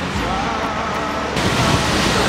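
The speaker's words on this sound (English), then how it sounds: "It's pouring." Heavy rain pouring outside in Boise, a dense, steady hiss that fills the whole clip and swells slightly louder partway through, with no voices.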